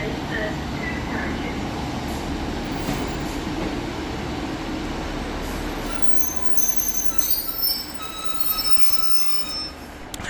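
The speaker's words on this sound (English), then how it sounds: "Arriving next into the station some 6 minutes late is 155341, working the 1727 Northern service from Bridlington through to York." Northern class 155 diesel unit 155341 pulls into Selby station on a Bridlington to York service, with a continuous low engine rumble and rising high wheel squeal as it slows near the platform.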